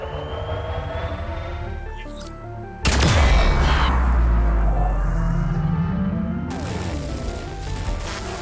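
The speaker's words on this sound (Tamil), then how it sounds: "அந்த மரத்தாண்ட ஏதோ வெடிக்குது." A sudden loud blast booms and rumbles away in the video game Grounded, with a second burst later amid mechanical game-like sound effects.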